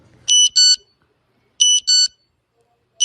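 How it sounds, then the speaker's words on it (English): Emergency Alert System alarm tone from Liberia: a loud, shrill electronic beep sounding in two-pulse bursts that repeat after roughly a second of silence, with no voices. "now the EAS alarm of Liberia."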